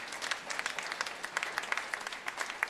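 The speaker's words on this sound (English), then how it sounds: "Give the parents that were here this morning helping out, getting this all together, a round of applause." At a school jazz cafe event, an audience gives a round of applause, moderately loud scattered clapping with distinct individual claps throughout.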